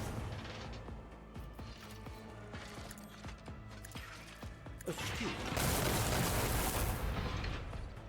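A weapon blast rings out in a video game set in grim darkness, firing an arc rifle: a sustained crackling roar swells loud after a stretch of busy in-game noise and rumbling.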